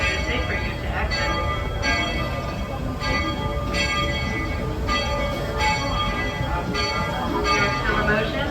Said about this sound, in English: As we arrive into the station, please remain fully seated and fully aboard the train